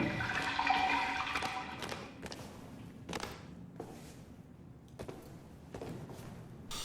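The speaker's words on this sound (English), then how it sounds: "you hear the water rushing through the pipes going down to the left valve" Water rushing through pipes toward a valve in the game Battlefield 1, a gushing flush that fades out, followed by several separate thuds and clanks at irregular intervals.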